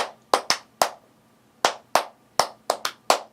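Several people clap in short uneven bursts, sharp close slaps in groups of two or three with brief pauses between them, in a quiet indoor room.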